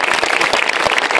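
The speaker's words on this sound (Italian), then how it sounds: "Allora io voglio che adesso la piazza faccia un grosso applauso a questi due" A crowd in a town square at a political rally breaks into loud, dense applause, a continuous roar of clapping with a few sharper slaps standing out.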